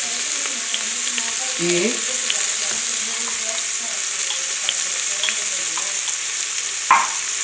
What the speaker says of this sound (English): Lo ponemos en medio y vamos a echar la cebolla